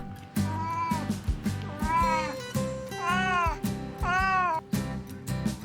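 A cat meows repeatedly, several drawn-out, rising and falling cries close by, with soft background noise between them.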